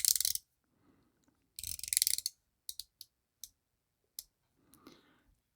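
The bezel of a Citizen BJ8050 Eco-Zilla dive watch is turned, giving crisp ratcheting clicks up close: two short bursts of rapid clicking, then several single clicks spaced apart, with quiet between them.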